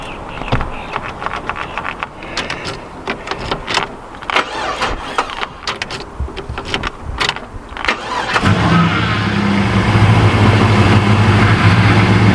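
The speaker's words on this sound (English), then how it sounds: "Okay, so it does run. It runs mint actually." A Holden VX SS with an LS1 V8 cranks and fires up, a stretch of choppy starter-motor turning and clattering followed by the engine catching and settling into a loud, steady idle close by.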